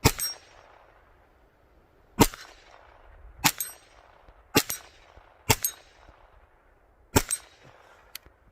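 Bullets strike small pop-can-size steel targets about 25 yards away, each hit a sharp gunshot crack followed by a ringing metallic clang. Six shots come at irregular intervals, with quiet gaps between them.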